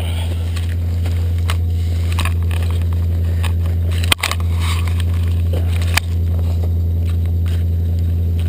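Crunching footsteps on loose gravel beside a Toyota that went over an embankment, a steady low rumble underneath and two sharp knocks along the way.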